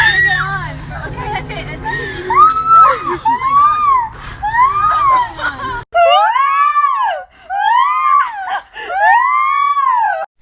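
Several people let out repeated screams in imitation, rising and falling wails that come in bursts over a noisy babble of voices, then clearer, louder screams alone in quieter stretches.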